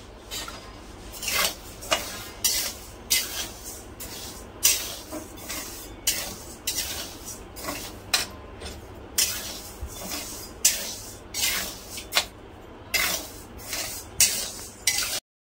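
Washed ration rice is dry-roasted in a pan for chakli flour. A spatula drags it in repeated rasping strokes, about a dozen rhythmic scrapes with grains rustling close by.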